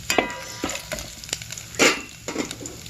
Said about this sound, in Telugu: 2 టేబుల్ స్పూన్లు పల్లీలు, 1 టేబుల్ స్పూన్లు జీడిపప్పులు వేసుకొని దోరగా వేగాలి